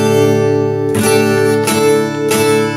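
An acoustic guitar strums a rhythm pattern, ringing chords with a few clear strokes, steady and close.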